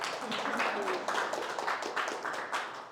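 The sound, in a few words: audience applause at a tech talk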